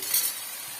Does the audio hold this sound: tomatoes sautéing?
yes